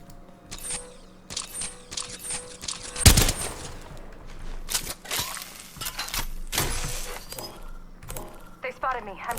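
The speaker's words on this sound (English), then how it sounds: "They spotted me. I'm taking shots." Rapid gunfire bursts in the Overwatch video game, with one loud close shot among scattered shots and impacts, mixed with game effects and talk throughout.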